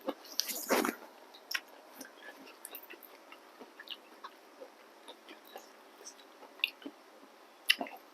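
Squid served with a spicy hand-pounded seafood dipping sauce and crisp fresh vegetables is eaten up close, with scattered soft wet squishes and chewing clicks, one louder bite near the start, over a quiet background.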